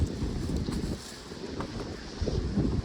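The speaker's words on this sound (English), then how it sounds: "the wind is just so strong" Strong gusting wind on a mountain trail buffets the microphone in a constant loud roar of low rumbling for the full stretch.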